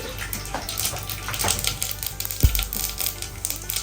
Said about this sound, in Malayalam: പിന്നെ കടുക് ഇട്ട് കൊടുക്കണം.